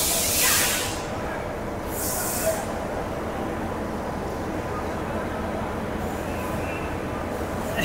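Coromandel Express, Chennai–Howrah 12842, rolling slowly into a busy station, a steady low rumble of wheels and carriages with brief hissing bursts and crowd noise throughout.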